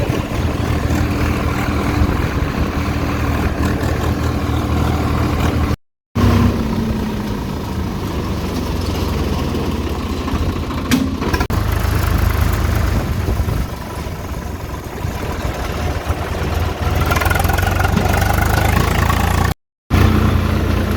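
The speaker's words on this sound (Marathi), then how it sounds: "तर बाई आता ट्रॅक्टरला ट्रॉली लावून घेऊन आलो." A farm tractor with a cotton-hauling trolley hitched behind it idles at a steady, loud low rumble that runs continuously for about twenty seconds, with two very brief cuts.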